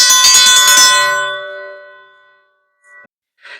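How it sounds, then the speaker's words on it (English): A dinner bell rung once outdoors at a barbecue, giving a bright metallic clang that rings out and slowly decays over about two seconds, followed by a couple of faint later tinkles. "I'm going to go ahead and ring the dinner bell and let folks know that it's time to eat."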